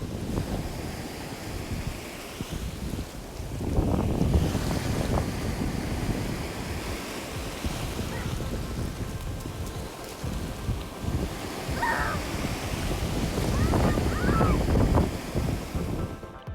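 Waves and wind on an open beach, a continuous roar of surf with swelling gusts buffeting the microphone, loud and steady throughout with no voices.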